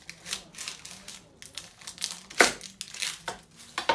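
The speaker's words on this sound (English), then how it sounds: "All right, onion. I'm gonna cut it in half." A knife cuts an onion in half, giving close, crisp crunching and crackling of the papery skin and layers in uneven bursts over four seconds, with one sharper crack partway through.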